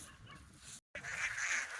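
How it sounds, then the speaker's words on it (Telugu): Ducks at a market give several honking, nasal calls, moderately close and fairly faint, with a short gap of silence between the bursts and no talking. "జూమ్ చేసి చూపిస్తాను చూడండి, బాతులు వస్తాయి చూడండి."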